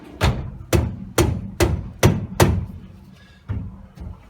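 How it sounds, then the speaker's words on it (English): Mallet striking a nut on the steering column of a 1964 Chevy C10 pickup, eight sharp metallic knocks at a steady pace, the last two after a short pause, loud and close. "she's going to tap on that with a mallet"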